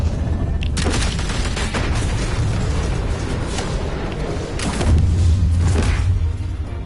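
Gunshot in the video game Batman: The Telltale Series: loud booming bursts cut through dense, constant action noise, with a sharp hit early on and another heavy blast about two-thirds through.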